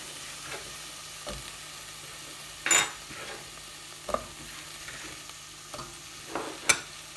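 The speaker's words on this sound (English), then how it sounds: "just give them a mix around with the onion" Potatoes and parsnip being stirred through softened onions in a soup pot, with a few scattered scrapes and clinks of the spoon over a faint, steady sizzle.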